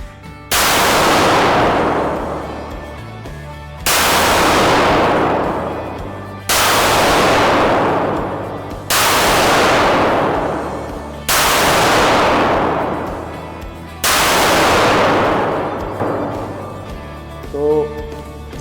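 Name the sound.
Stallion revolver firing six nitro proof cartridges remotely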